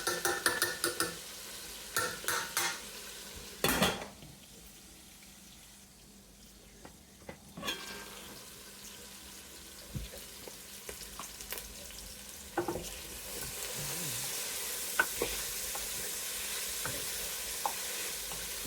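Three cloves of chopped fresh garlic sizzle in a pan of caramelized sugar while lamb stew is being cooked, with a few sharp stirring clatters early and then a louder steady frying hiss building through the second half, no talking.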